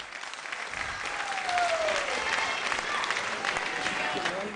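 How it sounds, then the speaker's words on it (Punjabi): An audience claps steadily throughout, a dense, sustained round of applause filling the hall at an event, with faint voices and a brief tonal sound beneath it. "ਸਾਡੇ ਦਰਸ਼ਕਾਂ ਵੱਲੋਂ ਜ਼ੋਰਦਾਰ ਤਾੜੀਆਂ"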